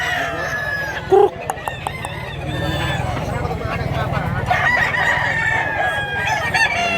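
Gamecocks for sale in Mantalungon, Cebu, clucking and crowing up close amid a busy outdoor bird market, with someone talking over the steady background noise.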